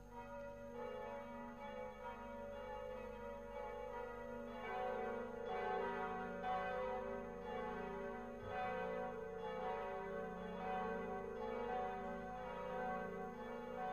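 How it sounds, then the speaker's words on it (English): Several church bells ring together in a cartoon version of Notre Dame, a sustained overlapping peal of tolling strokes that carries steadily and fairly loud with no voices over it. "Quasimodo was so happy that he rang all the bells."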